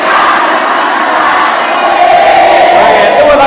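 A large crowd of seminar attendees at an Islamic boarding school shouts a slogan in unison, a loud, sustained roar of many voices close by that swells near the end.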